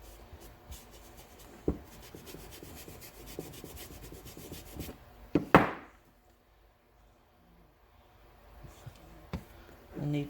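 A whitewash-soaked rag or brush rubs across a wooden board in scratchy, irregular strokes, with a sharp knock partway through and a few light taps, all fairly close and quiet.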